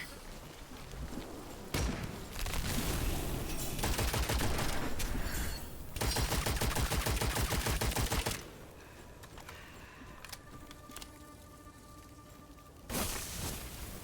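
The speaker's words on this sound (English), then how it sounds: "The grenade that was stuck to the outside of the bubble went off." Heavy gunfire and blasts in the dark fantasy shooter Witchfire, with a grenade stuck to the outside of a magic bubble going off: dense rattling bursts and thumps, loud and close, then quieter ambience and a sharp final burst.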